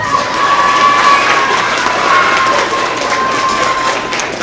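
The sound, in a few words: school assembly audience applause and cheering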